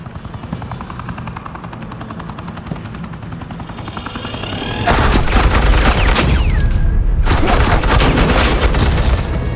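Suppressing fire in the Batman: The Enemy Within game opens with a helicopter's rapid rotor chop, then bursts into dense, loud automatic gunfire that rattles continuously with a brief gap before resuming.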